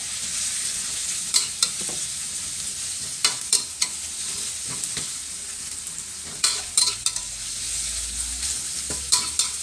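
Continuous sizzling of pork belly frying in a pan, punctuated by scattered clanks and scrapes of a utensil stirring, steady and close.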